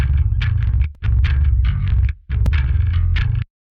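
Bass and guitars tuned down to drop F chug out a heavy, muddy, distorted riff, with thick low rumble across three choppy bursts separated by abrupt stops, then silence.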